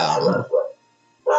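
A dog barks and yips several times, close, in short bursts separated by a brief pause.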